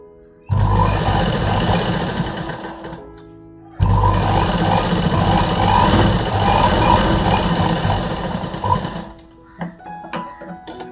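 A sewing machine stitching a blouse in a tailoring shop runs in two long, steady bursts of rapid mechanical whirring, with a brief pause between them, then stops and leaves a few small clicks.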